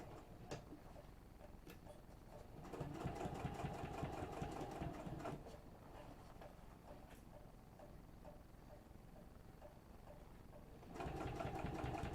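A sewing machine stitches a business bag, running in steady rhythmic bursts with a mechanical ticking whir that grows louder at moments, with no talk.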